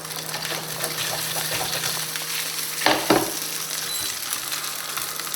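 Semolina pitha fries steadily in a hot pan with a continuous close sizzle, broken near the middle by a couple of louder scraping stirs.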